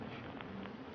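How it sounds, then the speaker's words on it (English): A steady, low hum of many honeybees buzzing together inside a beehive, dense and continuous, with faint brief rises in the drone. "What you're hearing now is the real sounds of bees, which are coming from a real beehive back in Nottingham"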